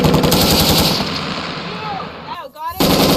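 A Marine recruit fires a weapon on a range, a loud, dense burst of rapid gunshots that fills nearly the whole moment, with a brief pause before the firing resumes.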